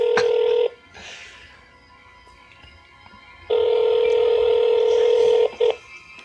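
Steady electronic tones from a telephone, a long beep, a pause with faint noise, then another long tone cut by a short break, heard through a speakerphone.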